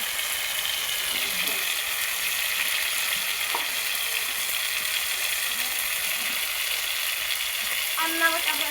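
Masala spice paste sizzles steadily in a pan while being sautéed, a soft continuous frying hiss with faint stirring clicks, fairly quiet and even.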